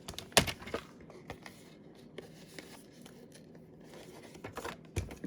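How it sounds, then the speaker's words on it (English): Scissors snipping a piece of paper in a card-making die-cutting craft, a handful of soft, irregular cuts and rustles, close and quiet with no talking. "And then we're just going to come down here and cut this part off."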